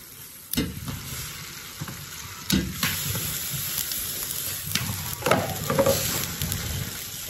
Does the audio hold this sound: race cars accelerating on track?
no